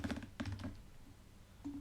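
Quick clusters of key presses on a computer keyboard while an SQL query is typed, a few short bursts of clicking close by with brief pauses between them.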